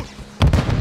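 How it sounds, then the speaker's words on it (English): A stun grenade bursts in a video game, a sudden loud crack and rumble after a short quiet lead-in, lasting under half a second. "Stun grenade out!"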